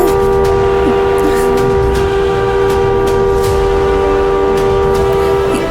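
A loud, sustained vehicle horn sounds continuously with a steady tone from start to finish, close by and dominating the scene, without any talking.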